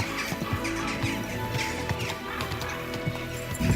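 Horse hooves clip-clop steadily at close range while a horse whinnies faintly, set against a busy outdoor ambience in the video game Kingdom Come: Deliverance 2.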